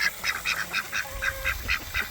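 Ducks at a backyard chicken coop give a run of repeated honking quacks, about nine in steady rhythm, fairly close, over a low rumbling background.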